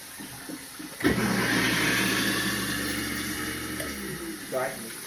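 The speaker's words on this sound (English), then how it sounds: "So I have here 4 potatoes that has been soaking overnight. Just want to go ahead and simply pour that water off." Water from four overnight-soaked potatoes poured off into a kitchen sink, a steady loud rush starting abruptly and running for several seconds before trailing off.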